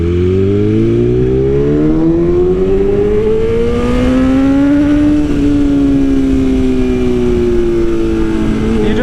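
A BMW S1000RR motorcycle rolls along at about 2,000 RPM in third gear without the clutch, its engine a loud, steady low drone that rises gently and then eases, close and continuous.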